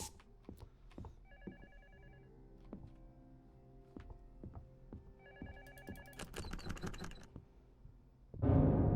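A telephone rings in the video game LUTO with repeated electronic trills at a moderate level, broken up by clicks and thuds. A louder burst of noise comes at the end.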